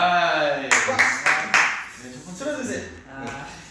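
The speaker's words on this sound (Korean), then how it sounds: "박수!" A few sharp hand claps, roughly five quick strikes in a short burst, ring out over music and a speaking voice in a Korean radio-style studio setting.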